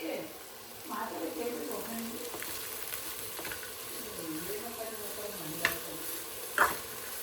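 Masala ingredients frying and being stirred in a pan, a steady soft sizzle with scraping stir strokes and a couple of sharp clinks near the end.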